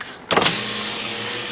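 A 2001 automatic Honda Civic's electric window motor whirs steadily after a brief click and rush, a continuous mechanical hum close by with no speech.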